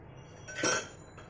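A metal strainer is lifted from among kitchen utensils while mango cake batter is prepared, giving one brief, close clinking rattle of metal against metal with no voices.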